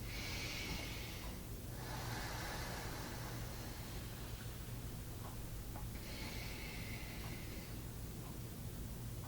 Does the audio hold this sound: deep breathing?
yes